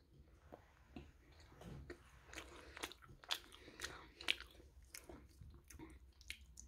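Milk chocolate being bitten and chewed close up, with a few sharp crunchy snaps followed by soft, irregular munching sounds, alone in a quiet room.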